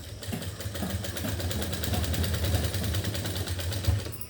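A sewing machine stitches a shirt during fitting, a close, steady rapid rattle of needle strokes running continuously for a few seconds with no talk.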